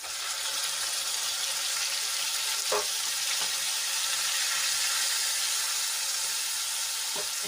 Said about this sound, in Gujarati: સરસ રીતે આપણે એને તેલમાં મિક્સ કરી લઈશું અને ગોલ્ડન બ્રાઉન થાય ત્યાં સુધી આપણે એને સાંતળી લેવાની છે